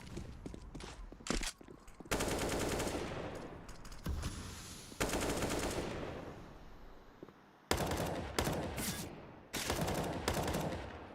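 Rapid bursts of AK rifle fire trade back and forth in a close-range video game firefight during a PAL 2020 esports match, loud and repeated, separated by brief gaps.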